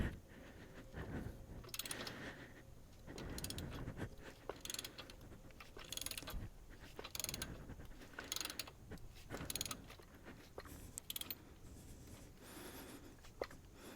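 A manual spring compressor is slowly backed off a GM strut spring on a Chevy Cobalt or Pontiac G-series, giving quiet ratcheting clicks, creaks and mechanical turning sounds in irregular bursts, close but faint.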